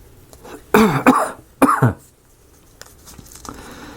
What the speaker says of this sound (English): I've been coughing ever since.